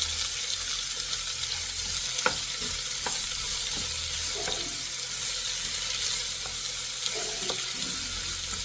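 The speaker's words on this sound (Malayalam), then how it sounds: "നന്നായി ഇളക്കി കൊടുക്കണം" Papaya upperi (stir-fry) is stirred in a pan, with a few soft scrapes and taps over a constant sizzling hiss and low background hum.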